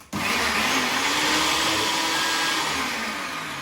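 Blender with its lid on whirring steadily after a sudden start, a loud, continuous motor roar that slowly eases slightly, close up with no talking.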